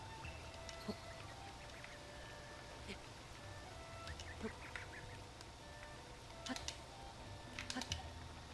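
Angry chickens cluck and squawk in The Legend of Zelda: Breath of the Wild, short sharp calls scattered over a steady noisy background, fairly faint, with talking at times.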